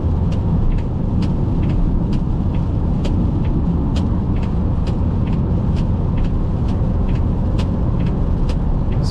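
A 2015 Chevrolet Cruze LTZ with a 144 hp engine drives uphill on a highway, giving a loud, steady road and engine rumble with faint repeated ticks throughout and no talking.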